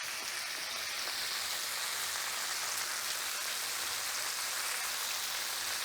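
Onions stir-fry and caramelize in a pan for homemade curry, giving a steady, close hiss of sizzling that holds even throughout with no talking.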